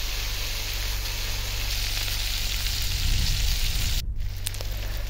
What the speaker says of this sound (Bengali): তো এই যে দেখুন আমি চিকেনটা ভাজতেছি।